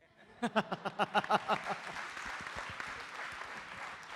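A few loud claps ring out at a youth conclave panel discussion in Mumbai, then broaden into steadier audience applause that carries on at a lower level to the end.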